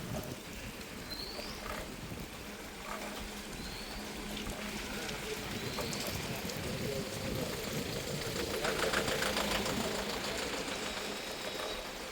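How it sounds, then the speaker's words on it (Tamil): Heavy rain pours steadily in Jaffna, a dense continuous hiss that grows slightly louder over time, with faint bird calls and a distant engine in the background. "மழை பெஞ்சு இப்படி வடிவாக இருக்குது பாருங்க"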